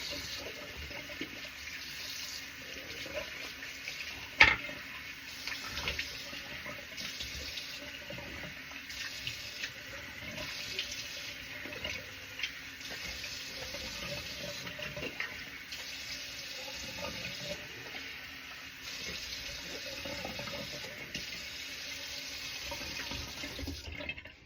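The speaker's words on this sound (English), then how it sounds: "You hear me rinse here" Water runs steadily from a bathroom sink tap while someone rinses their face, a soft continuous splashing with one brief louder knock, fairly faint and close, no talking.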